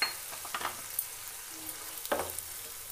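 Spices and onions fry with a faint, steady sizzle in a pan for a village-style chicken curry, with a few soft stirring scrapes close by and no one talking.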